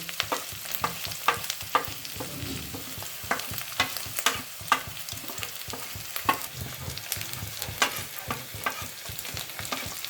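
Chilli, turmeric, cumin and coriander fry in hot oil for a Bengali tarka, a steady close sizzle broken by frequent sharp scrapes and knocks of stirring.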